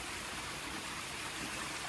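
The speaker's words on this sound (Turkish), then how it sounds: "küçük, minak, şirin bir şelalemiz var" A small stream drops over a little waterfall below a two-dönüm field in Mancılık, making a steady, soft rushing wash of water that stays even throughout, and no voices.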